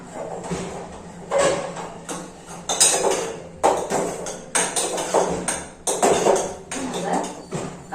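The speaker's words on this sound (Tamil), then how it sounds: "இப்போ நம்ம கிண்டிக்கலாம்." Moong dal pongal being stirred in a pot, with repeated scraping and knocking of a spoon against the vessel in an uneven rhythm, close and fairly loud, with some talk in the background.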